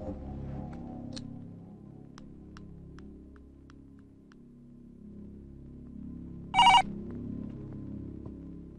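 A telephone rings once in a short bright burst over a low hum and quiet background, with no talk during the ring.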